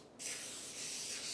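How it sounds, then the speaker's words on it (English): A steady hiss of cooking spray is sprayed onto phyllo dough for baked egg rolls, one continuous close burst starting after a brief quiet moment, no talking. "spray a little bit of spray really quickly on the dough"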